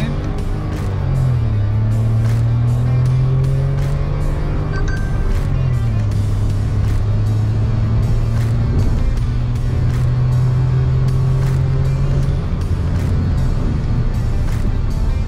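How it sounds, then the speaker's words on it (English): A Maruti Fronx 2023 Alpha turbo automatic accelerates hard under full throttle with wheel spin. Its loud engine note climbs steadily, drops sharply at each of a few upshifts, then climbs again, continuous and close. "Yes, wheel spin coming in."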